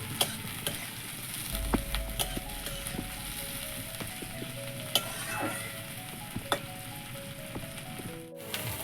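Potatoes, onion and chili frying lightly in a pan, a constant close sizzle with periodic utensil clicks and scrapes against the pan, ending in a brief pause, no talking.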